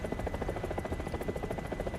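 A helicopter in the War Thunder game, heard in close, gives off a steady rapid rotor thump with a buzzing engine drone, constant throughout with no talking.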